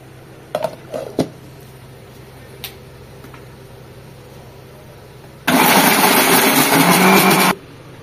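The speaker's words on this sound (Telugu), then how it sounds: "ఇప్పుడు దీంట్లో వేసుకొని గ్రైండ్ చేసుకుందాం స్మూత్ గా పేస్ట్ లాగా." A mixer grinder whirs loud and steady for about two seconds, blending fried masala ingredients for smoky chicken into a smooth paste, after a few soft clinks and knocks as the jar is readied.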